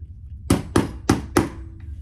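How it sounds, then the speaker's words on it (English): Four sharp hammer blows fold washers into a metal tag, evenly spaced, loud and close, with a faint ringing tail after the last strike. "Grab my hammer, and I'm just gonna fold that in."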